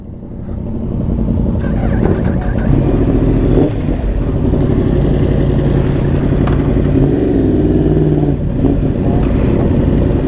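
A sport motorcycle's exhaust roars steadily and loudly, revving up and settling in waves, close by with no voices.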